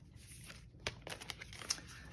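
A large tarot deck being shuffled by hand, soft papery riffles and flicks sounding close but faint in a quiet room.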